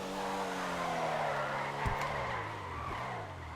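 A Pfister Comet S2 in GTA 5 Online runs flat out, its engine holding a loud, steady high-rev drone with rising tones and brief tire squeal, plus a couple of sharp knocks midway.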